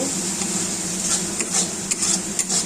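Spices being stir-fried in oil in a pan, with quick scraping strokes of a spatula over a soft continuous sizzle, close and alone.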